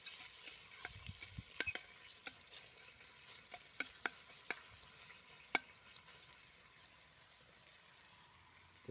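Faint, steady crackle and hiss of bacon sizzling in a pan, with occasional sharp pops and scraping stirs scattered throughout.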